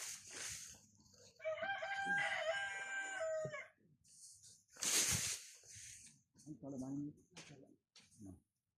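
A rooster crows once, loud and close with a long drawn-out call, followed by a sharp noise and brief clucking, with people talking nearby.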